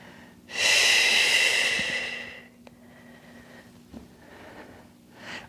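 A deep, loud nasal inhale during a relaxing foam roller stretch for runners, one long breath rising then fading, followed by quieter softer breathing and another short inhale near the end.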